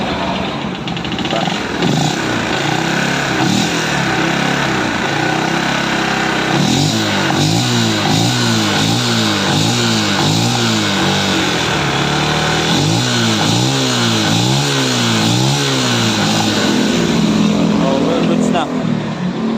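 A Yamaha Sniper 135 motorcycle engine runs steadily after troubleshooting of a loud ticking noise, a close, continuous idle with a few rising revs, and a person talks over it.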